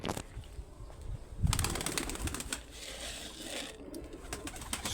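Pigeon cooing softly with a burst of flapping wings in the middle, close by, alongside faint chirps and rustling.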